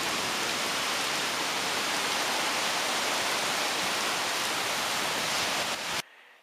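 A steady wash of light rain and gusting wind after a hailstorm roars evenly throughout, broad and hissing, then cuts off abruptly near the end.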